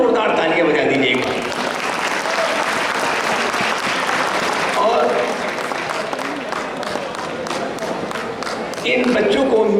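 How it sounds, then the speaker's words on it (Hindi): Loud, sustained applause from a crowd at a college freshers' event, cheering the children who performed; dense clapping fills the whole stretch, with voices and shouts mixed in and a word spoken briefly. "जितने बच्चों ने यहाँ अपने टैलेंट दिखाए, उनके लिए बहुत जोरदार तालियां बजा दीजिएगा।"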